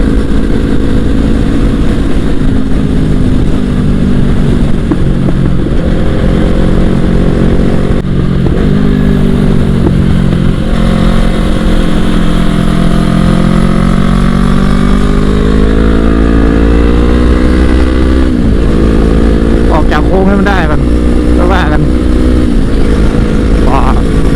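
A Yamaha R3 sport motorcycle engine revs loud and close, its pitch rising and falling steadily over a long stretch as the throttle is worked, with a brief voice beneath the engine roar.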